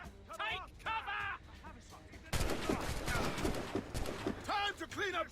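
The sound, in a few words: gunfire in the Assassin's Creed Rogue video game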